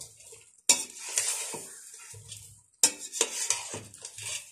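Biryani masala stirred in a metal pot for a Karachi-style biryani, with two sharp clanks of a spoon or lid against the pot, each followed by scraping and soft stirring under a faint sizzle.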